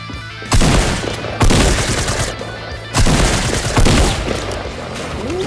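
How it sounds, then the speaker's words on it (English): Loud, close bursts of automatic gunfire in Fortnite, several long rapid volleys separated by short pauses, with no talking. "This is the boom of the gun."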